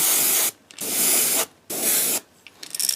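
Spray paint hissing onto a fishing lure blank in three steady bursts of about half a second to a second each, close and loud, with short pauses between and a sputtering tail at the end.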